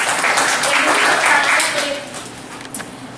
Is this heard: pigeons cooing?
no